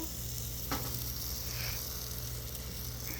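Garlic bread for a mini deep dish pizza sizzles and fries on a Blackstone flat-top griddle, a steady close hiss with a brief scrape or clatter, no talking.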